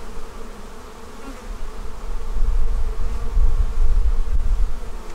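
Dense, steady drone of honey bees at an open hive during a queen search, a continuous close buzz that swells slightly louder partway through, with no talking.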